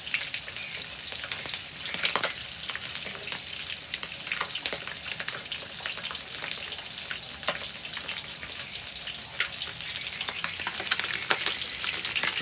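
Frogs with lemongrass fry in a pan with a steady, close crackling sizzle and scattered sharp pops, running continuously with no voices.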